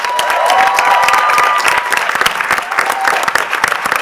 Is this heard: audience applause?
yes